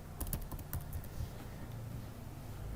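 Keys clatter on a computer keyboard as a password is typed, a quick irregular burst of soft, faint clicks that taper off into quiet room noise.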